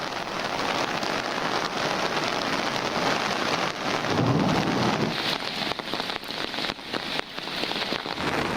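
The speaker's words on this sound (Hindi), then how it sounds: "गिलगित बल्तिस्तान और आज़ाद कश्मीर में बारिश" Heavy rain pours over Gilgit-Baltistan and Azad Kashmir in a dense, steady hiss, with a low rumble of thunder rolling through midway and no voices.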